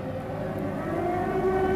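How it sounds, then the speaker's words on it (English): An air raid siren drones in a long, steady wail that slowly climbs in pitch, sounding distant and muffled, with no voices over it. "Sirens wail in the distance."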